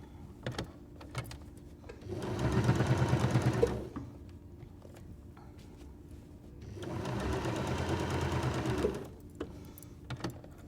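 A sewing machine stitching fabric for a square-in-square quilt block, running in two steady bursts of rapid mechanical whirring a few seconds each, separated by quiet pauses with light handling clicks.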